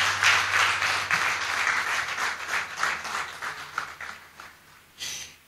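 An audience at an official launch event applauds after a presentation with a thick burst of clapping. It gradually thins and fades, then flares in one short final flurry near the end.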